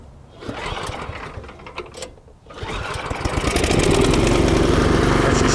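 A Cub Cadet machine's small engine, primed with the choke on, cranks with rapid clattering, pauses, then catches and settles into a loud, steady, close-up mechanical idle.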